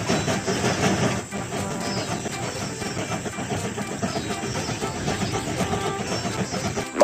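A cartoon train rolls along in a Baby Bus panda train game, a steady loud rumbling and hissing run with no gaps.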